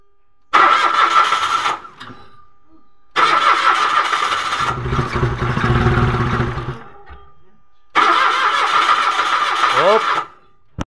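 Mitsubishi Mirage with automatic transmission cranking without starting, three long, loud, close cranking bursts separated by pauses, with chugging grind in the middle attempt.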